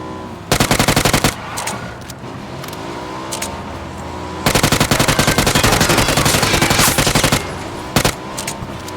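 Automatic gunfire in PUBG: Battlegrounds, loud rapid bursts of shots, a long early volley, a pause, then a sustained stream of fire with a vehicle engine rumbling underneath.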